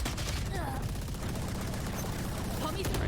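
Bursts of rifle fire punching through a wall in a Valorant esports match on the map Ascent, rapid cracking shots repeating over a few seconds amid busy game noise, with a caster's voice talking over it.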